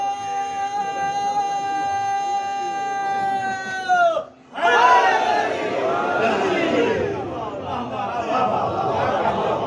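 An audience at a majlis chants a long, loud, sustained slogan in unison, breaks off briefly, then erupts into a roaring crowd response that continues with mixed voices.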